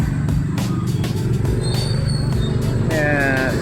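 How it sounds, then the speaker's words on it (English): A bus stuck in busy Siem Reap street traffic, with a rumbling idle amid passing motorbikes, horns and general street noise, under nearby voices. "Oh, bus is stuck here."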